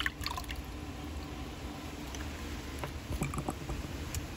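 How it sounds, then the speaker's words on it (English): A seashell cone dipped into a bucket of water, giving soft dripping and sloshing with small splashy trickles, fairly close and quiet, with no talking. "So I'll go ahead and dip this cone real quick"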